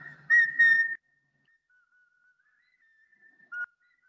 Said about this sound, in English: we're going to listen to the Mazatec whistling program